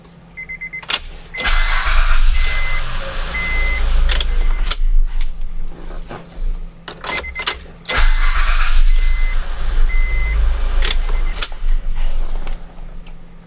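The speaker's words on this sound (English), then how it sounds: "Okay, both keys start the engine." 2006 Honda Pilot being started with newly cut keys: repeated key turns, clicks and chimes, with two separate engine cranks that catch and run briefly, close up and without talk.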